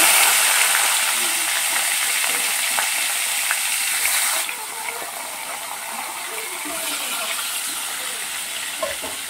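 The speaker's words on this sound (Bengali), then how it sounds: "তেলটা দিয়ে দিলাম। মাছগুলোকে ভেজে নেবো।" Rohu fish sizzling and frying in hot oil in a wok, a steady close crackle that drops a little in intensity partway through, with occasional faint pops and stirring clinks.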